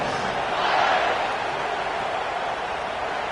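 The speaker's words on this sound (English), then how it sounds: "this crowd is buzzing after that last score" Stadium crowd buzzing after a score at a Notre Dame vs Texas college football game, a broad sustained roar of fans that swells briefly and then settles into a steady hum.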